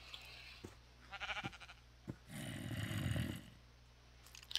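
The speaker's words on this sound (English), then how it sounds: "Sheep on the field!" Several short bleats from Minecraft sheep out in a field, a quick pulsing cluster followed by a longer, lower bleat, set against a quiet background hum.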